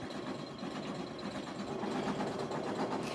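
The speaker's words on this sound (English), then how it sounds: "we're just watching the machine stitch." An embroidery sewing machine stitches an appliqué in a fast, steady mechanical rattle with a faint motor hum, heard alone and fairly quiet.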